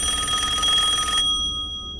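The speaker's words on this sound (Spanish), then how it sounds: "el teléfono sonó fuertemente" A telephone bell rings loudly and steadily up close for about a second, then cuts off abruptly, leaving a brief fading tone.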